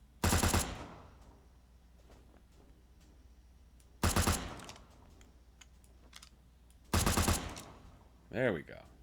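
Gunfire in the video game 7 Days to Die: Undead Legacy comes as three short, loud automatic bursts spaced a few seconds apart, with quiet background between them and a brief warbling sound at the close.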